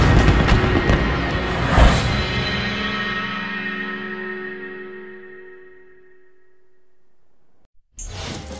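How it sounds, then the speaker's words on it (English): Opening-ceremony fireworks in a Summer Olympics video game: one loud, heavy burst rings out early, then a long echoing decay fades slowly into near silence before another sound starts abruptly at the end. "Fireworks to show the start of these games"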